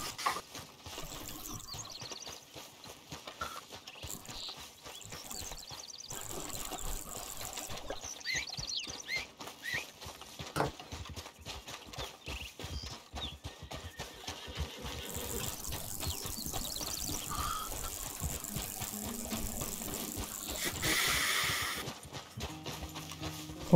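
Horse hooves clip-clop at a trot in the video game Red Dead Online, a quick continuous patter mixed with in-game ambience and a rising rushing noise later on.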